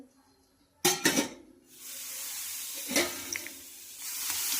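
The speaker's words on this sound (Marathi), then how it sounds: "तवा आपला छानपैकी गरम झालेला आहे याच्यावर आपण पाण्याचा शिंपडा देऊन" Water is sprinkled onto a hot dosa griddle, setting off a sharp burst of sizzling hiss that spits twice and then settles into a softer, steady hiss with a few fainter crackles. No one speaks.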